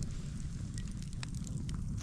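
Wet stones set around the ring of a portable campfire crackle and hiss with steam, a steady close roar of fire broken by scattered sharp crackling pops throughout, with no talking.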